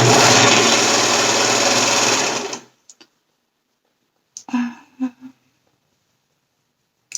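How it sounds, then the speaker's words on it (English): A serger overlocker stitching a seam runs fast and whirring steadily for about two seconds then stops, followed by silence and a few brief clicks and handling noises. "So I'm using my serger, but I'm sure you could do this on a regular sewing machine as well."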